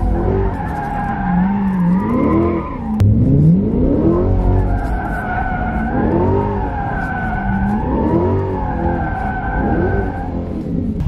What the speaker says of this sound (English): So as you can see, you're kind of just like modulating your throttle.